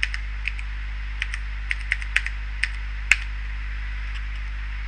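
Sharp, scattered keystrokes on a computer keyboard while DOSBox commands are typed, a dozen or so irregular clicks with one louder tap near the end, close and alone over a steady low hum.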